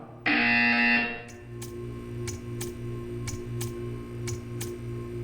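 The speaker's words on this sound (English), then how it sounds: "You will hear a buzzer" A loud, harsh buzzer in the video game Portal 2 blares for about a second, then gives way to soft regular ticks over a low electronic hum.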